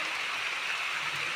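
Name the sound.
rain falling in a village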